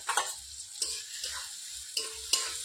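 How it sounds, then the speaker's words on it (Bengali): Garlic paste frying with browned onions in a pan over a wood fire for homemade chicken curry: soft sizzling under sharp scraping stir strokes, roughly five evenly spaced spatula sweeps, close and fairly quiet. "রসুনটা একটু ভালো করে নেড়ে নিচ্ছি।"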